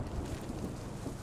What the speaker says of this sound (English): Now I hear the Sherman moving up